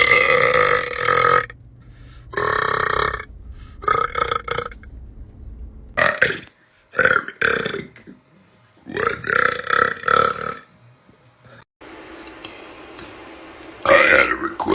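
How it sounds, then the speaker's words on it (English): A man burps over and over, loud and close, in a string of long, croaky belches broken by short pauses, with one drawn-out burp near the end. "I had a request for a 1-minute burp video. So here's me doing my best."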